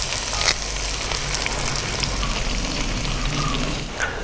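Green chilies and curry leaves sizzling in hot oil for a Kerala-style fish curry: a dense, continuous crackling fry, close and loud, with a few sharper pops and no voices.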